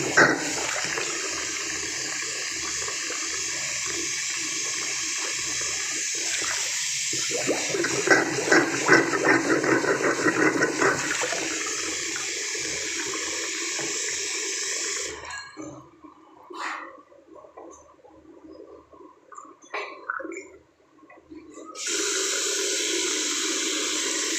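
Water runs from a tap into a bathroom sink and drains freely down a newly unclogged waste pipe, a steady rushing flow broken by a quieter stretch partway through, then resuming.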